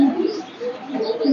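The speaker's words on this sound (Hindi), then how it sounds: "ये ग्रिंगो कबूतर है" A Gringo pigeon coos in a low, soft repeated rhythm, close by and alone, with several gentle throaty phrases.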